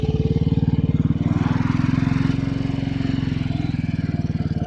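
A Royal Enfield Bullet 500 motorcycle fitted with a sidecar gives a loud, close, deep thumping single-cylinder engine roar with a steady, even pulse throughout.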